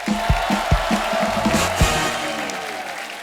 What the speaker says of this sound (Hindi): जोरदार तालियां हो जाए मधुर सर के लिए।